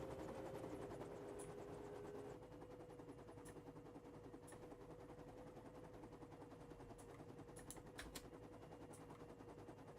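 A helicopter in the zombie survival video game 7 Days to Die runs with a quiet, steady rotor chop and engine hum, faint and continuous, with sharp clicks and ticks scattered over it.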